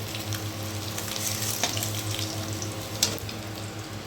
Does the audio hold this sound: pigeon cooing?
no